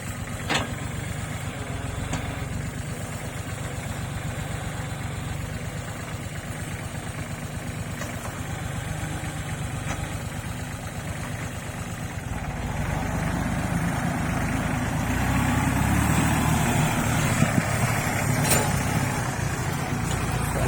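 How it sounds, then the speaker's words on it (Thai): A used walking tractor engine runs steadily for about twenty seconds, a low continuous idle drone that grows slightly louder and rougher in the second half, with no talking. "ครื่องติดง่ายนะครับไฮดรอลิกสมบูรณ์นะครับ"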